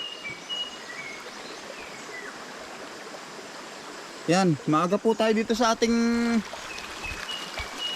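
A river stream flows steadily at early morning on the way to a corn field, a constant soft rushing wash, with a person talking over it partway through.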